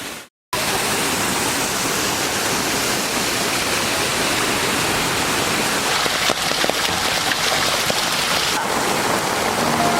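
Rain falls steadily on a college campus in Mangalore, a dense, even wash of drops hitting surfaces that starts abruptly after a brief gap and continues loud and unbroken for ten seconds.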